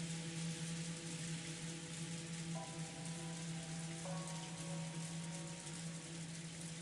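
In the visual novel game Umineko: When They Cry, rain falls on an island in a constant, even patter that fills the scene alone, with soft sustained tones of background music underneath.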